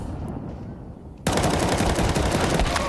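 Sustained automatic gunfire erupts loud and close in a Counter-Strike match, a dense rattling burst that starts abruptly and keeps going over a low ambient bed.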